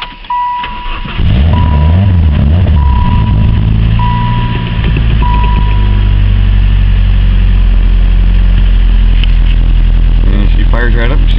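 A cheap used car bought from a lot cranks and fires right up, with a few repeated chime beeps at the start. The engine then settles into a loud, steady idle that runs close by.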